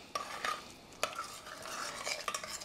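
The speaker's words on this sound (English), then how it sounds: "now let's stir it" A radiolarian pudding mixture with maple syrup stirred in a bowl, a brief close scraping and clinking of a spoon in quick strokes with a few sharper taps.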